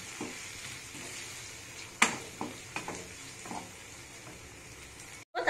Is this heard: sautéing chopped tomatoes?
yes